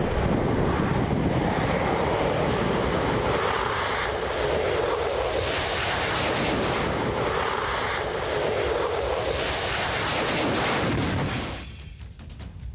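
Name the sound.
F-15 fighter jet flying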